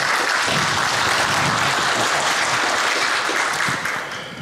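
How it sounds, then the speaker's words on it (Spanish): An audience claps after a talk on conserved forage. The dense applause is loud and sustained, then tapers off toward the end. "los aplausos por lo visto certifican que quedó todo muy claro"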